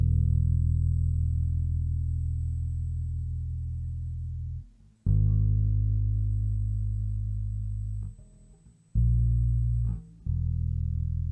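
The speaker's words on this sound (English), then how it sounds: "I took my bass and I just played a very simple bass line," An electric bass plays a very simple line of long, sustained root notes, dry and unprocessed, with a few clear note changes and brief gaps between them, deep and steady with little high end.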